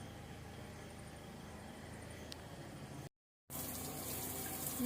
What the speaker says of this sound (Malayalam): ഈ ചെടികൾക്കൊക്കെ നമുക്ക് വെള്ളം നനയ്ക്കാം